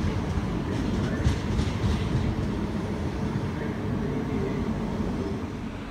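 A G-Link light rail tram pulls out of Florida Gardens station, with a continuous rolling rumble and faint rail clatter heard from on board at moderate volume.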